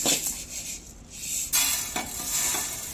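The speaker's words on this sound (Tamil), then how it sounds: "இப்போ நம்ம எடுத்து வேற பாத்திரத்தில் மாற்றிக்கலாம்." Dry-roasted whole spices for homemade garam masala tipped and scraped from a pan into another vessel, a close rattling, scraping clatter of metal and spices with a couple of louder knocks, no voice.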